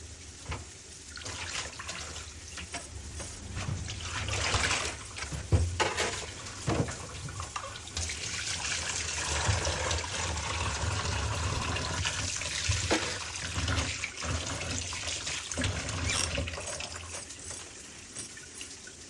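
Tap water runs steadily into a kitchen sink while vegetables are rinsed for a bean mash dish, a continuous close splashing stream with occasional clinks and knocks and no talking.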